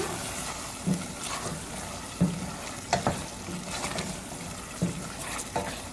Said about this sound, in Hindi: अब इसको भूनेंगे तेज़ आंच पे।